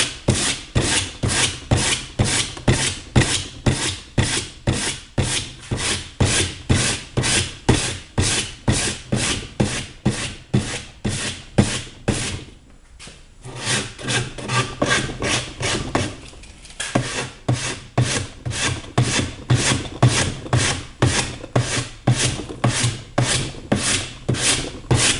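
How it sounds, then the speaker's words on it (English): Sandpaper rubs over the rawhide backing of a wooden bow in quick regular back-and-forth strokes, a continuous rhythmic scratchy rasp held close up, with one short pause near the middle and no talking. "You want to be careful not to sand across the top, because you don't want to damage the rawhide up on top."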